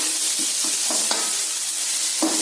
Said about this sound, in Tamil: இப்போ நல்லா கலந்து விட்டுலாம் எல்லாத்தையும்